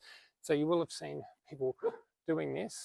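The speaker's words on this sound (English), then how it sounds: "Sorry about my dog barking." A pet dog barks in a home, short sharp barks mixed in and partly masked by someone talking close to the microphone.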